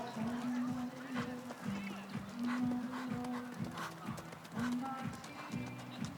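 A gaited Icelandic horse at a breeding show, Apollo frá Haukholtum, with steady, even hoofbeats clip-clopping in a quick repeating rhythm under an announcer's continuous commentary.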